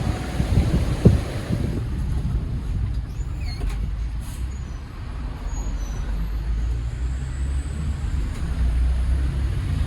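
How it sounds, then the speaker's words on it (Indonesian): Steady roar of wind and big surf at Merak rumbling continuously, with a low, broad wash of crashing waves and no voices. "Tapi ombaknya lagi gede."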